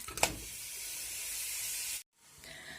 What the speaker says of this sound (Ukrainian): я його нарізала на невеличкі шматочки і зараз кладу це м'ясо у казан